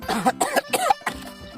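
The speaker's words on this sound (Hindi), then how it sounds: "आपकी खांसी की वजह से कुछ समझ नहीं आया।" A person coughs in several quick, harsh bursts at close range, with short pauses between them and no talking.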